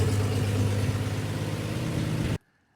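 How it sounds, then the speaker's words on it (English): A 1952 GMC truck engine idles on its auxiliary fuel tank with a leaking exhaust, a loud, steady, close rumble that runs evenly and then cuts off abruptly near the end. "Running on the auxiliary fuel tank right here, just letting it idle right now."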